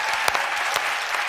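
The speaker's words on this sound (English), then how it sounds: "give a round of applause to those 270 people" Studio audience applause on a television talk show, a dense, steady wash of many hands clapping at close range with no voices over it.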